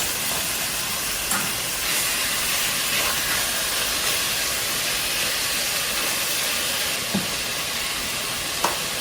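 Beef sears in avocado oil in a hot pan, giving a steady, loud sizzling hiss that fills the whole stretch with a few faint clinks and no talk.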